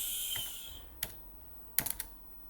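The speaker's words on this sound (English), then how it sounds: "what are you typing?" Clicks from a computer keyboard come in short bursts, a single tap or two and then a quick cluster of keystrokes, fairly faint against a quiet room with no talk.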